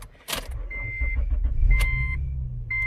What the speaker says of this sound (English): So now I'm going to start the car with the new key that was programmed.